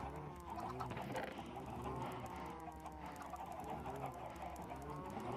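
Chickens clucking in a building video game, a steady layered chorus of many birds murmuring and clucking continuously at moderate volume, with no talk.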